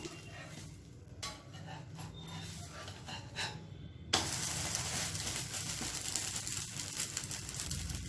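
A flipped dinner flatbread sizzles on a hot pan, with a soft, steady hiss that grows louder and fuller partway through, heard close with no talking.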